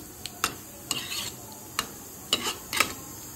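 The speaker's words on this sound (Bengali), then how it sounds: "এগুলি দিয়েও ভালোভাবে নাড়িয়ে নিচ্ছি।" Fried potatoes and pumpkin are stirred with spices in a pan, giving scattered sharp scrapes and clinks of a spoon against metal over a soft sizzle, close and intermittent.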